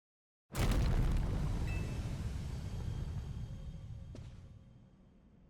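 Big explosion in the Pokemon Legends Z-A video game, one sudden loud boom that erupts from silence and rolls on as a long, rumbling roar slowly fading over several seconds.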